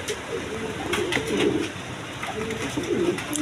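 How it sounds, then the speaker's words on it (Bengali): Pigeons coo repeatedly nearby, soft throaty calls rising and falling in a loose rhythm over faint background noise. "কবুতর সারাক্ষণই ডাকে ছে খুব সুন্দর কবুতর"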